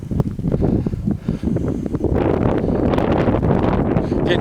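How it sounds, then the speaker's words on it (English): Wind buffets the microphone outdoors at an old mill site, a steady rough low rumble with gusty surges that grow denser and louder partway through. "Getting kind of windy, so it's probably going to be bad audio for a little bit."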